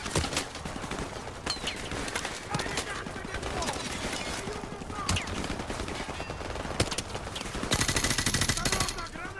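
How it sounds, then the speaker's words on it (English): Call of Duty Modern Warfare video game gunfire: rapid automatic bursts and single shots crackle continuously, with a voice speaking over the battle noise. "Where the heck are these shots coming from?"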